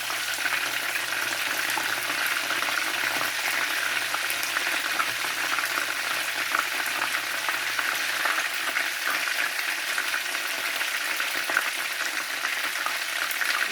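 Fish fries lightly in oil in a pan, a steady close sizzle and crackle that holds evenly throughout with no talk.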